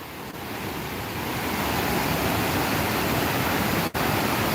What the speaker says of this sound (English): I just wanted to bring you down by the falls.